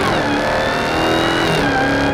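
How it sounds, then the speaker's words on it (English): A 2020 Dodge Charger Hellcat Widebody Daytona, 718 hp, accelerates at full throttle in automatic mode, giving a loud, close, sustained engine roar with a whining, rising pitch and no talk. "You leave it in auto, you floor it."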